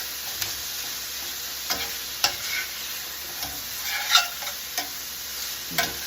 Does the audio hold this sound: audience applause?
no